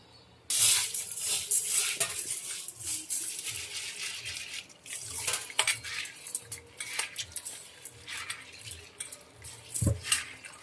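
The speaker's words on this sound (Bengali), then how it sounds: "এবার ভেজে রাখা সাবুটা এবার ধুয়ে নেব" Soaked sago (tapioca pearls) washed by hand in water in a kitchen, with close splashing, swishing and clinking of a metal bowl or utensil in uneven bursts, fairly quiet and without talk.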